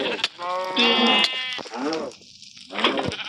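Goats bleating nearby, several wavering, harmonic calls in quick succession, loud and close, with some background noise between them.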